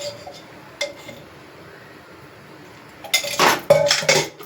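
Metal cooking pots, a flat pan and a deeper pot, are handled on a home kitchen stove: a faint knock early, then a loud burst of clattering and clinking metal near the end, with no speech.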